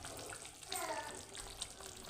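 Aubergine (vangi) bhaji simmering in a pan, giving a steady, soft bubbling hiss that runs without a break through the whole short stretch, with no clear pauses.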